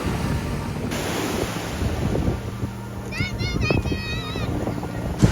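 Sea waves washing onto an English beach in August, a steady roar of surf with wind buffeting the microphone, while people talk nearby and a voice is heard.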